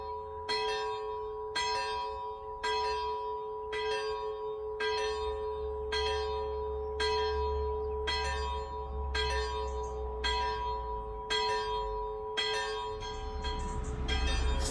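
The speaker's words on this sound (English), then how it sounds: "As the church bells ring on this fantastic Sunday morning" Church bells ring on a Sunday morning, struck in a steady, evenly spaced sequence of about a dozen strokes with sustained humming tones between them, clear and moderately loud over a low background rumble, with no talking.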